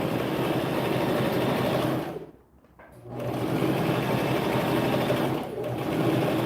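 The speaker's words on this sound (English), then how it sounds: "we're gonna reinforce the faux suede cord, and then you're just gonna sew all the way down" A sewing machine stitches faux suede cord onto a faux leather purse, running in a steady, fast mechanical whir that stops briefly near the middle before resuming, close by with no voices.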